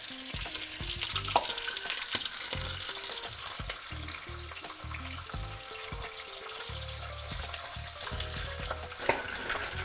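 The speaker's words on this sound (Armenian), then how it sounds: "առաջնահերթ 4 հավայի մեջ լցնում ենք բուսայուղը և թեթևակի տապակում ենք հավի միսը" Chicken pieces lightly frying in vegetable oil in a pot for a chicken and rice pilaf, with a steady close sizzle and repeated clinks and scrapes of stirring throughout.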